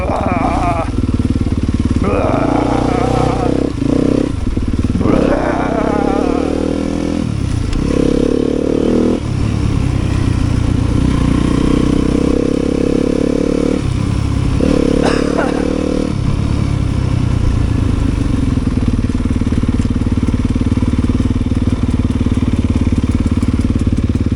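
A trail motorcycle ridden at Twin Hills in autumn roars loudly and continuously, the engine revving up and down through gear changes with rising and falling pitch, close to the microphone throughout.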